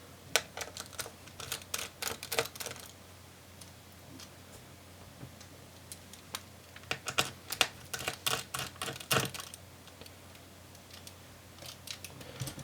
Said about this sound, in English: first of all we want to undo the 4 screws that hold it into the chassis